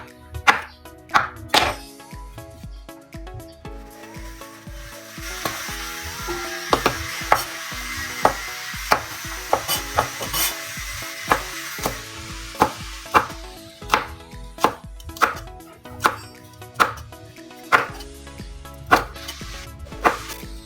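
Knife chopping young corn in half on a cutting board, a steady series of sharp, close thunks that grows quicker and more regular partway through.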